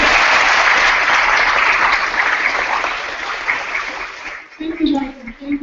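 Conference audience applauding loudly for several seconds, the clapping thinning out toward the end as a voice begins to speak.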